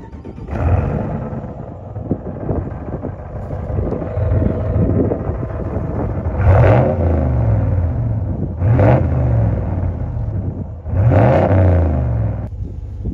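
A V8 car engine inside a tunnel, loud and close, with a steady reverberant drone and three surging revs that rise and fall over a wind-buffeted background.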